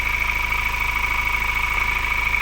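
A Ford Ranger engine idles steadily during an oil flush, a constant low mechanical hum with a faint high whine, even and unbroken throughout.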